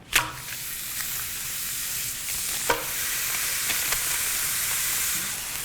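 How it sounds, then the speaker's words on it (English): Two burger patties sizzle loudly and steadily on a griddle, with a few sharp spatula scrapes and clicks punctuating the hiss; close up, with no talking. "I'm breaking out the griddle to cook these burgers"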